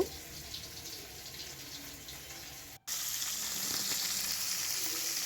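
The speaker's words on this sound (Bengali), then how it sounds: "মাছটাকে আমি তেলের মধ্যে দিয়ে দিয়েছি" Fish rubbed with salt and turmeric frying in oil with black cumin seeds, a steady close sizzle that cuts out briefly and returns louder and more intense.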